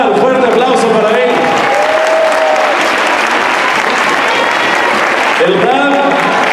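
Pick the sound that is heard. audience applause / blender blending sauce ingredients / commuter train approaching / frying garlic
audience applause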